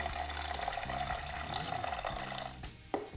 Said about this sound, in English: This particular bin has a quick access nozzle, so you can just place something underneath, turn it,